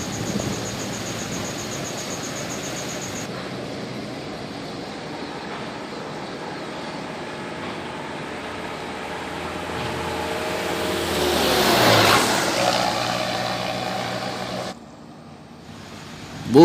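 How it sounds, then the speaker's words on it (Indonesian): Orange Fajar Rio Wisata Queen bus on the road from Dumai to Pekanbaru, a steady broadband engine and road roar that swells as it passes near the middle, then drops away abruptly. "Bus Fajar Rio Wisata Queen Orange dari Dumai menuju ke loket Pekanbaru ini teman ya."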